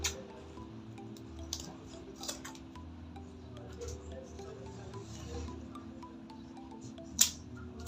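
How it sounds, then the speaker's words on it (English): Scissors snip the excess zipper off a sewn Ankara fabric purse, giving scattered faint metallic clicks and cuts over quiet background music, with a sharper snip near the end. "After stitching, cut out your excess zipper."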